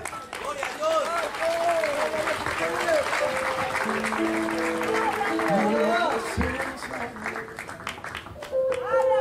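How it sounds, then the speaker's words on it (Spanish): A church congregation applauds steadily for several seconds, dense clapping mixed with shouting voices and cries of praise, loud and continuous with a slight dip before rising again at the end. "Dale un fuerte aplauso a Jesús."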